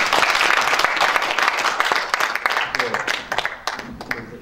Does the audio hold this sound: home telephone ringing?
no